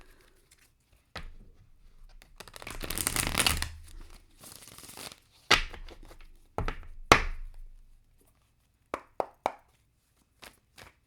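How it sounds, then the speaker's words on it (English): A deck of tarot cards is shuffled by hand in bursts of riffling and crisp slapping, with a longer rustling stretch followed by a few sharp isolated card taps. "I want to shuffle this deck."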